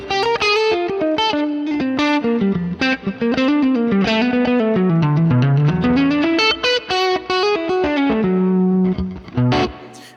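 Electric guitar run through effects such as distortion and chorus plays a fast melodic line moving from B Dorian up to C Dorian, dense rapid notes dipping low mid-phrase then climbing, loud and continuous throughout.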